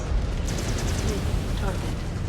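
An incoming missile explosion in MechWarrior 5 Clans plays as a sustained, heavy rumbling roar with a dense low-end boom that fills the brief moment, loud and continuous.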